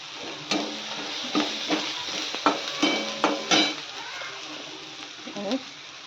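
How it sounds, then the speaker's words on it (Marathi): Spice masala sautéing in a pan with a steady sizzle, broken by repeated clinks and scrapes of a spoon stirring against the metal, close and fairly loud. "मसाला थोडासा परतून घेऊया आपण, त्यानंतर भाजी ॲड करूया."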